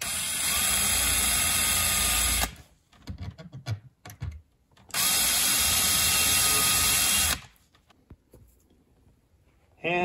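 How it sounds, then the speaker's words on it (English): A power drill bores pilot holes into a TV stand, running in two long, loud whirring bursts of a few seconds each, separated by quieter handling clatter. "And we're putting a couple pilot holes in here."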